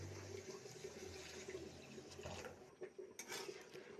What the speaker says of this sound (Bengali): এখন দিয়ে দিব পরিমাণ মতো ঝোল।